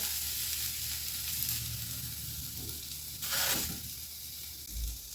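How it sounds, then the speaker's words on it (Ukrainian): Steady sizzling of liver frying in a hot dry pan without oil, a continuous crackling hiss with a brief louder flare partway through, no voices. "Посмажену печінку перекладаю в тарілку і продовжую далі смажити цю печінку."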